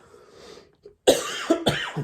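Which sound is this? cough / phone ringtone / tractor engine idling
cough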